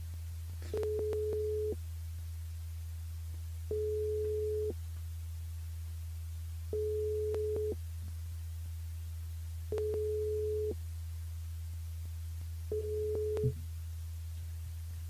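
A telephone ringback tone sounds on a radio station call-in line, five evenly spaced beeps about three seconds apart over a constant low hum.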